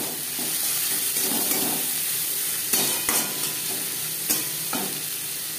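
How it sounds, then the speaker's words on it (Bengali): Chopped onions sizzle and fry in hot oil for a Bengali chitol fish curry, with a steady close hiss under occasional scraping stirs and a few louder clinks of the spoon against the pan. "এখানে আমি 3টে পেঁয়াজ কুচি করে অ্যাড করলাম।"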